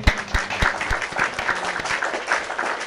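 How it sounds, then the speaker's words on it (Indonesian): A crowd claps in a continuous burst of applause, sharp individual claps standing out near the microphone within a dense patter, with a faint voice underneath. "Tepuk tangan lu."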